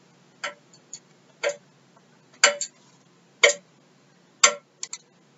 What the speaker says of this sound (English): every tick of the clock to the appointed time is like a town clock making a gong.